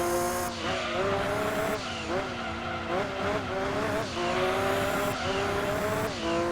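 A race car in the Gran Turismo 2 video game squeals its tires continuously over a loud engine drone, the pitch rising and falling in repeated swells through the corners.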